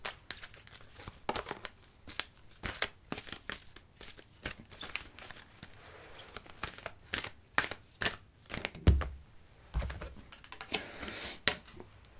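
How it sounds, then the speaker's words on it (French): Small Lenormand cards shuffled by hand during a breakfast card reading, a run of quick soft riffling clicks and slaps with short pauses, fairly quiet and close, no voice over it. "Maintenant, on va mélanger mon petit Lenormand."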